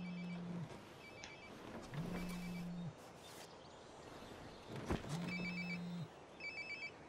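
A telephone rings in Life is Strange Before the Storm, three clear ring bursts with steady low buzzing tones and high chirps, evenly spaced over a background of game ambience.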